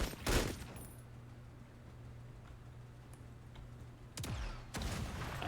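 Gunfire in the video game Menace comes as a few sharp, separated blasts: one near the start and two close together near the end, over a quiet steady hum.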